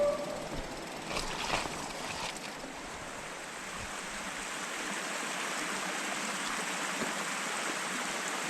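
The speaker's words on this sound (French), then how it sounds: "J'aime bien ces traversées de petits ruisseaux là" A mountain bike on an enduro trail near Colmars and Lac de Lignin splashes through a small stream, with a few splashy bursts early on over steady rushing water that fills the whole stretch.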